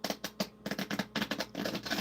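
Tarot cards being shuffled, a quick run of crisp riffling and slapping bursts close up, steady rhythm with no voices.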